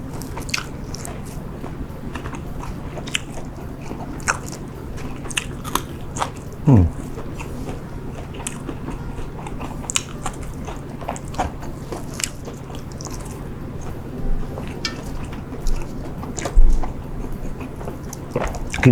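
Someone chews beef eaten wrapped miang-style, with soft crunching bites and wet mastication repeating close by over a steady low hum, a few louder bites near the end.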